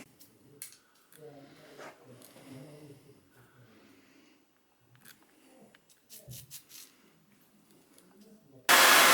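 A handheld hair dryer blasts on loud and steady right at the end, drying a freshly fitted and taped-in hair system in a salon, after stretches of quiet talking and small handling noises.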